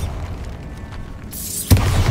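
A Bombarda blasting spell detonates in the Hogwarts Legacy video game, a single sharp burst with a low booming thud late in the moment, following a rising hiss, set against quiet ambient game background.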